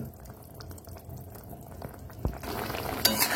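Pineapple chutney with sugar and lemon juice being stirred in a pan, soft scraping and bubbling at first, then a brighter sizzle and clatter of the spoon toward the end, fairly quiet.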